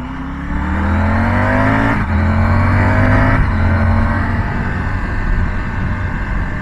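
A car drives by on a road near the Barrages de l'Eau d'Heure lakes in Belgium, its engine loud and close with a rising revving note that shifts pitch midway, then gradually eases as it moves off.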